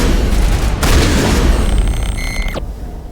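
Shotgun fire in the video game Mass Effect 1 Legendary Edition: a loud burst of booming, gunfire-like blasts with dense noisy impacts, then an electronic whine that cuts off abruptly near the end.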